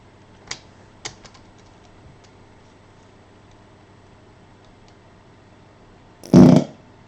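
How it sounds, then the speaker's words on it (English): A fart sound effect taken from a sound library bursts out once, loud and close, after a few faint clicks against near silence. "Carbonate farts."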